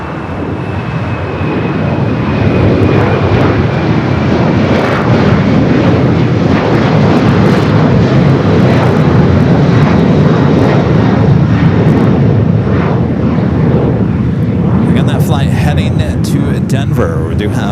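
An American Airlines jet takes off from runway 25 right at LAX, its engines a loud, sustained roar that fills the whole stretch and holds steady to the end.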